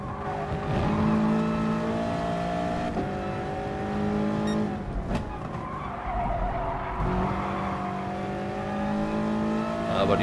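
Toyota 86 Gr.4 race car in GT Sport on the Brands Hatch GP circuit, its engine revving and shifting through gears with bursts of tire squeal and skidding, loud and continuous with no talk.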